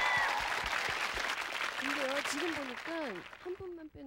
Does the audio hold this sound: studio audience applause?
yes